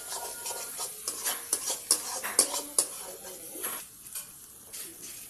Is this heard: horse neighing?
no